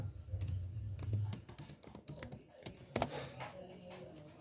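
Computer keyboard typing as Python code is written, irregular bursts of close key clicks and taps with brief pauses, alone without talk.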